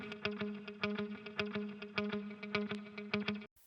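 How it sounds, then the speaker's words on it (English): A rhythmic, chopped electric guitar pattern drenched in effects, repeating plucked notes with a pulsing, slightly distorted, echoing tone, fairly quiet. "we have this electric guitar that I played in a previous demo"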